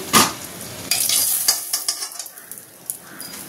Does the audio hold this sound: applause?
no